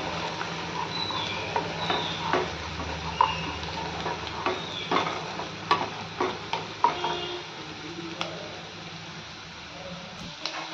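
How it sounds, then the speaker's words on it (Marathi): Onion with ginger and garlic sautéing in a pan for dal tadka gives a soft, continuous sizzle, broken by irregular stirring scrapes and clinks of a spoon against the pan, close but fairly quiet. "कांदा आपला छान भाजत आलाय."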